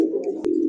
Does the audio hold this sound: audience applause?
no